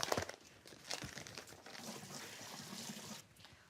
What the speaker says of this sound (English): We're just gonna give it a quick rinse.